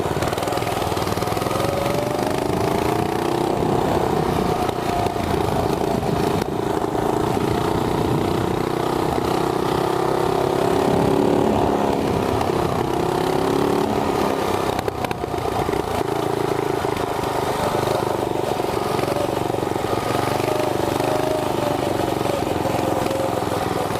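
A mini pocket bike engine drones loud and close on a top speed run along a bike path, a continuous buzzing whine holding high revs throughout with slight pitch wavering.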